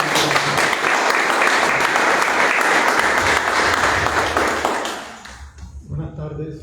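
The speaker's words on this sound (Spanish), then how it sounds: "Así que vamos a recibirlo con un gran aplauso." Dense audience applause fills a lecture hall, sustained and loud, then fades out near the end as a voice begins speaking.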